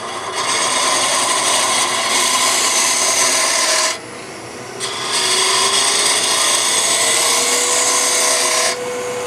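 A turning tool scrapes wood on a lathe, giving a loud, steady rasping hiss with one brief dip partway through and a short break near the end.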